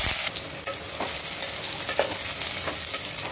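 Three onions frying in hot oil in a vessel for Hyderabadi aloo baingan, giving a strong continuous sizzle with a few soft stirring scrapes, close and steady with no voices.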